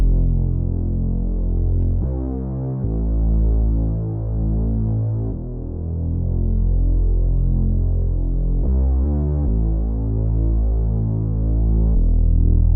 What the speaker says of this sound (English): I'm gonna add a synth bass sound with my Prophet Rev 2